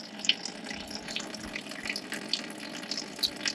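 Coolant trickles and drips steadily from a disconnected radiator hose on a Lexus RC F during a supercharger install, a soft continuous splashing with small bright droplet plinks, recorded close and without talk.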